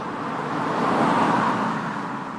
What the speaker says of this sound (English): And then I have some other transition car sounds that I used.